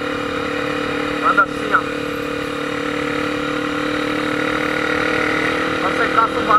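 A motorcycle engine idles steadily with a couple of brief revs, close and loud, while a person talks over it.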